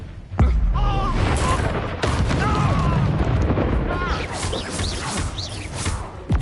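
The Expelliarmus spell cast in the video game Hogwarts Legacy, a sharp magical blast followed by dense booming combat effects and crackling impacts, with character voices shouting over the loud, continuous clash.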